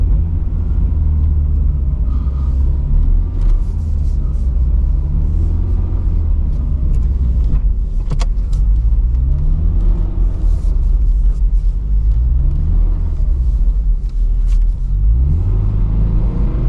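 A Subaru BRZ on all-season tires drives through snow with a deep, continuous engine rumble. Revs rise and fall in repeated swells, with faint crunching on top, heard from inside the car.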